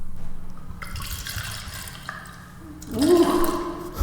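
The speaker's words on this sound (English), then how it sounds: "Let's see if we can get some of the pour here." A strong drink of Hennessy cognac being poured, with a brief liquid splash and gurgle toward the end following quieter clinking and handling sounds.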